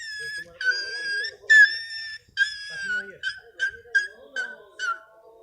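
A person imitates a puppy's sound with a run of high, whimpering whistle-like cries, several long ones followed by shorter, quicker yips, close and fairly loud with no other sound.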